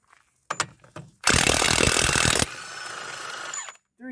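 An impact wrench spins off a lug nut on a 1998 Freightliner MT45 truck wheel in a loud, dense burst of about a second, preceded by a few clanks and trailed by a fainter whirring rattle.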